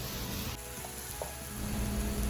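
Onions and mushrooms fry in a pan over medium heat, giving a steady, soft sizzle that runs evenly from start to finish with no voices.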